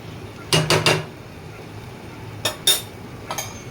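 A metal lid goes onto a cooking pot in a home kitchen, several quick clinks and rattles in two bursts, close and moderately loud over a quiet background.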